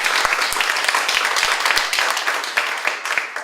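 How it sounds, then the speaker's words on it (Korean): Audience applause fills a lecture hall at the close of a talk by a lecturer: steady dense clapping with many sharp individual claps, continuous and fairly loud for the whole stretch. "다시 한번 큰 박수 부탁드립니다"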